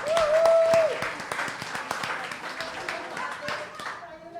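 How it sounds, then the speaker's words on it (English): Audience applause at a feminist forum session, close, crisp individual claps building into a scattered ovation, with a brief tone and voices mixed in as it tapers off. "Let's give them a round of applause."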